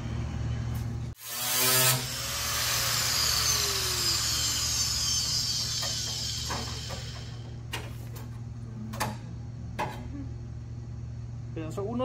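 A power tool whines up loudly as it cuts into the front of a Ford F150 OBS truck, a sustained grinding tone for several seconds, followed by scattered clanks and short bursts.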